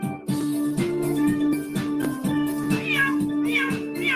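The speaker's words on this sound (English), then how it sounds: "That cat was yowling." A female cat in heat yowls in long, wavering, song-like cries that rise and fall continuously, loud and close, with no talk over it.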